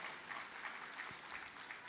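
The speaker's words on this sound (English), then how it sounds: "Please give yourself a hand of applause." An audience at a women's health and wellness event claps together, a faint, even patter of many hands that carries on for the whole short stretch, heard from a distance.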